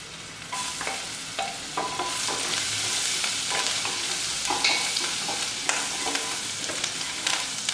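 Green chilli and ginger sautéing in hot oil in a pan: continuous near sizzle broken by repeated scraping strokes of a spatula, with no speech.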